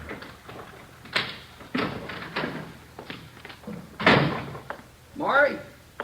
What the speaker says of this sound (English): Kitchen door.